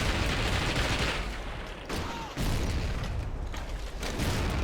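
Dense bursts of gunfire and explosive booms fill a gunfight in the PSP game Medal of Honor: Heroes. The shots come loud and continuous, with a short dip in the middle.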